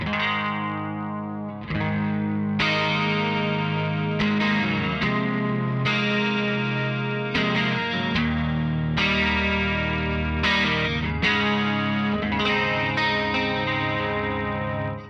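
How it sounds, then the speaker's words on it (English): Clean Fender-style electric guitar through a Line 6 DT25 112 tube combo with chorus switched on, shimmering sustained chords and picked notes ringing steadily and close for the whole stretch, no voices. "then I can either turn on some chorus"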